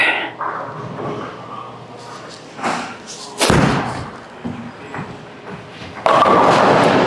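Bowling ball, a Hitter Pearl, rolling down the lane and crashing into the pins, a loud clattering impact with scattered thuds around it and a burst of noise near the end.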